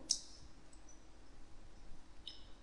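A single sharp computer mouse click near the start, with a second faint click toward the end, in a quiet room while drawing in CorelDRAW.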